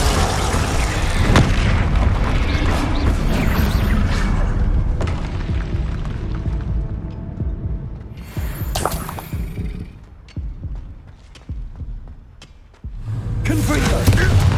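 Repeated Confringo fire spell explosions in Hogwarts Legacy, loud booming bursts with crackling debris in quick succession, fading and then returning at the end amid ongoing combat noise.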